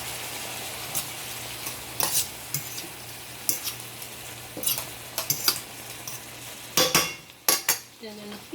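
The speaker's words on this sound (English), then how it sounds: "I'm going to mix that together and allow it to saute as well." Diced tomatoes sauteing in a pan for Haitian-style collard greens, a soft steady sizzle broken by scraping stirs and utensil clinks that grow busier toward the end.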